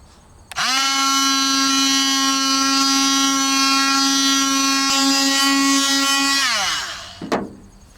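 A power sander fitted with 400 grit sandpaper works rust off a kei truck battery box, giving a steady high motor whine for about six seconds before spinning down, followed by a short clatter.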